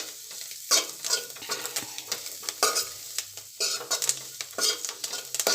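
Boiled potatoes and peanuts for aloo chaat are stirred in a pan, with a spoon scraping and clinking in quick irregular strokes over a faint sizzle, close and moderately loud, with no talking.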